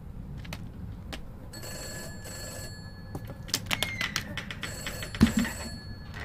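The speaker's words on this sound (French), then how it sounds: "Ça se trouve, elle m'appelle au téléphone." Old telephone bell ringing inside the video game Summer of 58, repeated bursts of ringing over a dim ambient background with scattered footsteps and clicks, moderately close.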